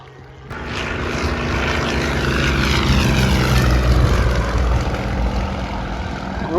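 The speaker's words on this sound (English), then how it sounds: "As they come through in the Yak 50 and the Yak 52." Yak 50 and Yak 52 propeller aircraft pass over an airshow, their radial engine drone swelling loud and close then holding strong as they fly by.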